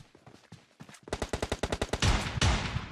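Gunfire in PUBG Mobile: scattered single shots, then a rapid automatic burst of about a dozen evenly spaced cracks followed by louder blasts, fairly close and with no talk over it.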